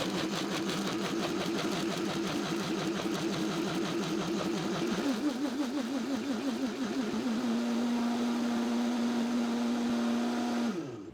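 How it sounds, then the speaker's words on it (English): A blender whirs steadily while blending melted sugar-free vanilla syrup, its motor pitch wavering at first and then settling into a smooth, even hum before cutting off at the end. "I'm gonna blend this up for another couple while that cools a little bit"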